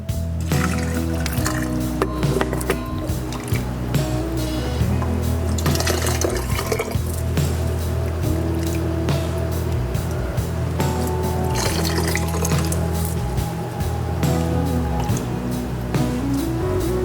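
Warm water is poured into a canning setup during preserving of pasta sauce, peaches and pears, giving a steady continuous splashing fill over a constant low kitchen hum, close and fairly loud, with no talking.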